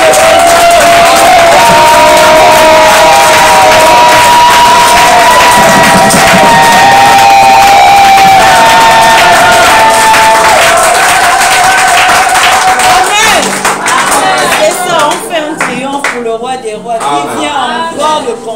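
Loud congregation applause and cheering at a church service fill the space, steady and dense, with music or voices beneath, fading into scattered claps and shouts near the end.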